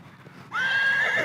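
A loud, sustained horse whinny breaks in after soft hoof clip-clops, the neigh holding steady and close to the end of the short sound effect with no one talking.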